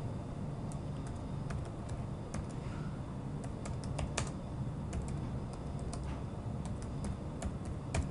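Fingers tap steadily on a computer keyboard in a quiet room, a light, irregular patter of key clicks over a low background hum, with no talking.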